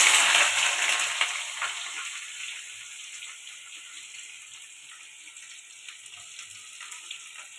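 Loud frying hiss from chicken with onions in a pan that gradually settles into a softer, steady sizzle with faint crackles.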